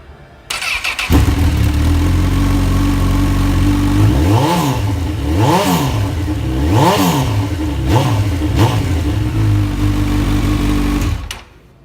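A 2010 Honda CB1000R motorcycle fitted with an Ixil exhaust fires up after a second, then settles into a loud, steady idle broken by several sharp throttle blips in the middle, before cutting off near the end.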